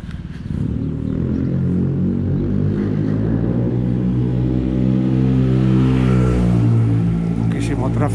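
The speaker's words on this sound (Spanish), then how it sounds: "Muchísimo tráfico." Heavy street traffic, with a deep, droning vehicle engine rumbling close by and building slightly in intensity, while a person talks over it.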